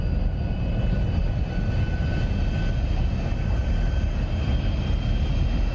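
F-106 Delta Dart jet roaring on afterburner in the DCS flight simulator, a constant, loud, dense engine rumble and hiss with no talk.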